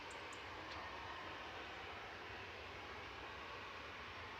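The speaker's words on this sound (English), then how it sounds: "SAS Flight 4607 A320 Neo. It's Alen RGL coming in from Oslo." SAS Airbus A320neo airliner arriving at Manchester Airport from Oslo, a faint, distant steady engine roar with a broad airy rush and no voices.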